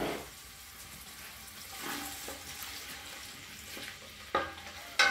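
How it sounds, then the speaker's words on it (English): Onion fries in a pot for Nigerian party jollof rice, a steady soft sizzle running throughout with occasional light scrapes and clicks near the end. "So I put in my onion, I fried for about 2 minutes."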